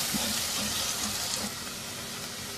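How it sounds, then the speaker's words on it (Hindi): Finely chopped onion frying in 3 to 4 tablespoons of oil until lightly golden for chicken handi, giving a steady, even hiss and sizzle close by with no talking. "एक बड़ा प्याज बारीक कटा हुआ, हल्का सुनहरा फ्राई कर लेंगे इस प्याज को"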